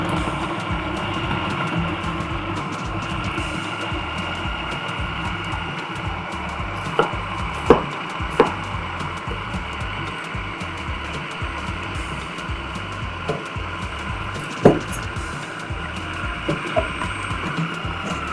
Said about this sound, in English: So I'll just start shredding it now.